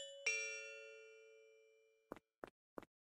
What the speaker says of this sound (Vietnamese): kiểu như chỉ bấm chuông vậy thôi